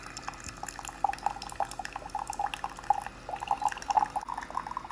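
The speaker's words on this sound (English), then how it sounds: "now that we've done our initial process with just passing water through" A Keurig K-Mini coffee maker passes plain water through during its first run, giving quiet, irregular drips and trickles over a low background hum.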